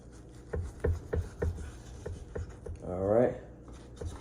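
A knife cutting partially frozen pork butt into steaks, several short firm scraping strokes close up, then a longer drawn cut, with a voice speaking over part of it.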